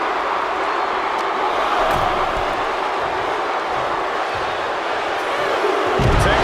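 A steady crowd roars and cheers throughout, a broad sustained wash of arena noise from the WWE Universe audience in the WWE 2K24 video game, during a Demolition vs The Rockers tag match.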